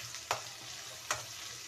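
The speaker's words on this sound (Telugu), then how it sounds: "అల్లం వెల్లుల్లి పేస్ట్ పచ్చివాసన పోయేంత వరకు ఫ్రై చేసుకోవాలి." Ginger garlic paste with turmeric frying for tomato rice, a soft steady sizzle with two sharp scrapes of a spoon across the pan, close and fairly quiet, with no talk.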